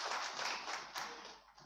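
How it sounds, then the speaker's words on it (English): Applause at a Data Privacy Day conference, a soft, brief patter of audience clapping heard from a distance as a guest enters. "A round of applause for him as he walks in."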